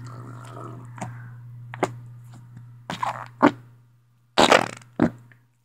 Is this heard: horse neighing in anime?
no